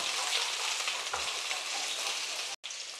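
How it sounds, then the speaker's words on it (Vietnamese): Fish sizzles and crackles in a frying pan that is running low on oil, a dense, close hiss filling the short moment before a brief cut. "Ê ơi, cái món cá chiên bị hết dầu rồi mọi người."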